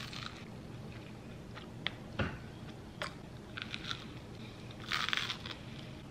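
Someone eating an avocado toast breakfast, with soft, close chewing and a few brief crunchy bites spaced across a quiet background.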